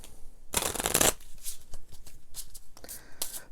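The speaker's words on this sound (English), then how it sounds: "Let me give those a shuffle." A deck of Frazetta fantasy playing cards for a Talisman board game gets riffle-shuffled in one quick, crisp burst, followed by softer handling and tapping of the cards, close and quiet.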